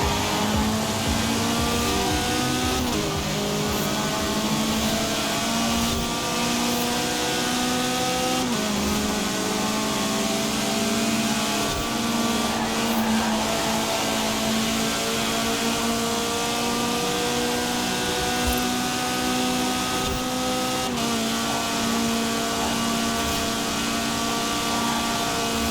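Car engine driving in Forza Horizon 4, on a road and dirt rally course: a loud, continuous engine drone that climbs in pitch through the gears, with brief drops at each shift, sustained for nearly half a minute.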